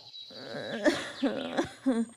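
An elderly bird character in a Hindi cartoon story coughs several times in quick, rough bursts, close and fairly quiet, with no other sound around it.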